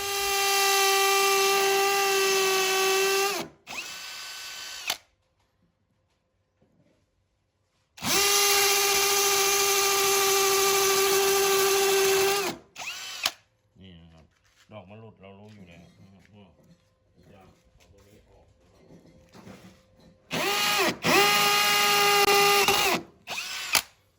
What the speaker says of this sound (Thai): เราจะเจาะสวนเข้าไปแบบนี้นะครับ